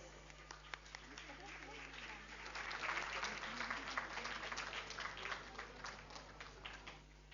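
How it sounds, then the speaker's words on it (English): A play group annual day audience of parents applauds for a young girl, scattered claps building into a fuller, fairly distant round that swells midway and then thins out again. "a huge round of applause for her as well"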